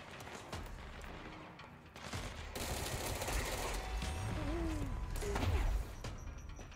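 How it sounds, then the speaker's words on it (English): Grenade launcher rounds firing and detonating in the Control video game, a quiet, distant-sounding string of thumps and crashing impacts over a busy combat background. "launching grenades all over the place."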